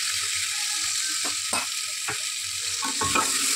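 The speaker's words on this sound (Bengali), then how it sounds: "পেঁয়াজটা আমি একটু ভাজা ভাজা করে নেব।" Chopped onions fry in oil inside a pressure cooker with bay leaf, cinnamon, cloves and cardamom, a bright steady sizzle close up, punctuated by a few stirring scrapes and clicks against the metal pot.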